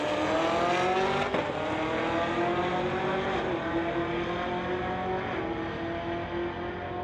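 Two Chevy Camaros, a 2020 and a 2018, launch side by side at a drag strip, and a loud sustained engine roar climbs through the gears while a brief tire squeal cuts in early.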